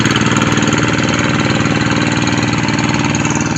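Hand tractor engine pulling a leveling board across a farm field, a steady loud chugging drone that runs unbroken and close by, with no voices.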